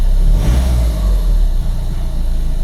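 A VW Golf 7 with the 1.6 TDI CLHA diesel engine, heard up close with a deep, rumbling idle that swells in a brief, gentle rev before settling back.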